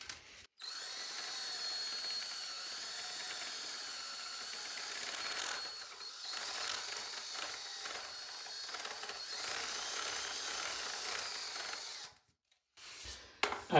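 A power drill driving a drill bit through a toilet flange area to straighten a crooked toilet bolt, whirring steadily and close for about twelve seconds before stopping, then a brief restart at the end.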